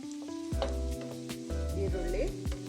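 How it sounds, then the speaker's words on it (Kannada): Oil hisses as tempering for kadale saaru (black chana curry) goes into the hot pan, a close, steady sizzle with clinks of a utensil and sustained metallic ringing tones on top. "ನೋಡಿ, ಒಗ್ಗರಣೆ"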